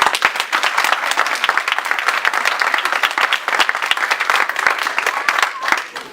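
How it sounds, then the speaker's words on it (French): Audience at a speech in Manchester breaking into sustained applause, dense close clapping that holds steady throughout and tapers slightly at the end. "permettez-moi de nous acclamer nous-mêmes"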